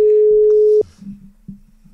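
A telephone busy signal after a dropped call connection on a Czech radio phone-in: a single steady tone holds loud for most of a second and then cuts off, followed by faint, brief low pulses.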